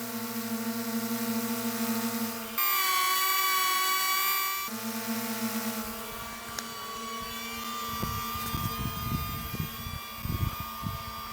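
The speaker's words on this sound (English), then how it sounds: "the low-pitched hum from the Mini 4 Pro and the very whiny dentist drill of the Neo" A DJI Mini 4 Pro and a DJI Neo drone hover in flight side by side, a low droning hum overlaid by a piercing, dentist-drill-like high whine, steady and close with slight pitch shifts.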